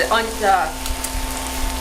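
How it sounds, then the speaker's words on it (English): Lemons sizzle softly in a frying pan while making chicken francaise, a gentle crackle beneath a brief voice and a steady background hum. "the lemons are actually starting to kind of sizzle in the pan."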